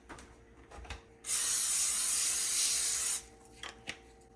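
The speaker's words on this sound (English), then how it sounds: "I'm just going to spray it with some cooking spray" A single continuous spray of cooking spray hisses onto a baking sheet for about two seconds, close and fairly loud, with faint clicks and handling noise before and after.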